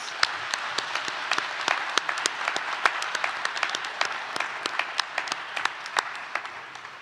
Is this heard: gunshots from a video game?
no